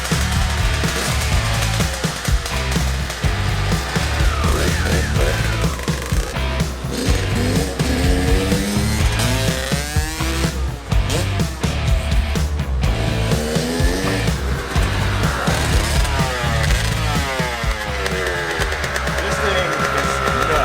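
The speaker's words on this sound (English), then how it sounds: "All right, started the KX" A Kawasaki KX motorcycle engine runs just after being started, a loud, steady rumble with shifting revs that fills the whole stretch. Someone talks over the engine noise.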